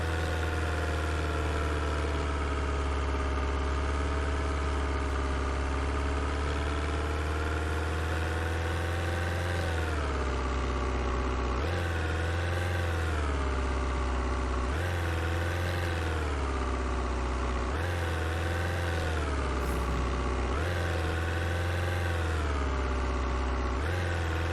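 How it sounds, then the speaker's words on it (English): A vehicle engine in the zombie survival game Vein drones steadily at idle, loud and close, with a deep low hum and pitch that dips and recovers several times in a rough, uneven rhythm. "Engine's being kind of weird."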